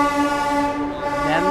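A DEMU passenger train sounds its horn at a railway station platform, a loud sustained blast holding steady for the whole moment, with crowd noise beneath.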